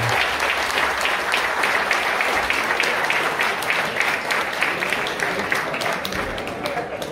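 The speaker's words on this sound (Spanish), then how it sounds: "vamos a darle un fuerte aplauso porque se lo merece." Steady, dense applause from a golf tournament audience at a summer championship in Llanes, continuous and fairly loud throughout with no pauses.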